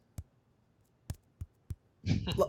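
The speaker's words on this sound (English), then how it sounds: "I knock on the barrier. So and it literally sounds like this." A few dull knocks on a hard surface, spaced unevenly and fairly close, followed by a short burst of muffled rustling noise.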